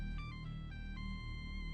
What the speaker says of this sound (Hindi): कब से फोन बज रहा है, उठा क्यों नहीं रही हो?